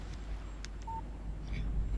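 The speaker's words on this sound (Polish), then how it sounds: "Text message from Barry." Phone text message alert in the video game Alan Wake: a brief, clean electronic tone near the middle, preceded by a few short clicky blips, over steady low background hum with no talk.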